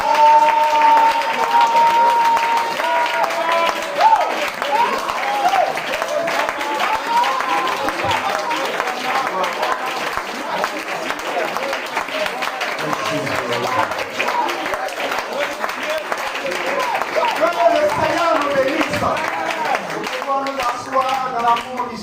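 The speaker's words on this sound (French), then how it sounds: "Est-ce qu'il y a quelqu'un ici qui peut acclamer Jéhovah Jireh?" A church congregation at a French-language worship service claps and cheers in sustained, dense applause with crowd voices and music running underneath throughout.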